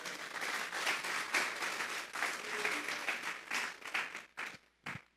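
A church congregation claps loudly and continuously for several seconds, then the applause breaks into a few scattered final claps before fading.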